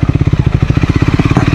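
Triumph Scrambler 400 XC motorcycle ridden off-road, its single-cylinder engine pulsing in a steady, rapid, loud thump close by, with no talk over it.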